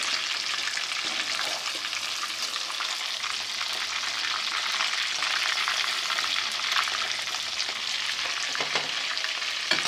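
Beef kofta meatballs fry in hot oil with a steady, dense sizzle and crackle, close and continuous throughout without talk.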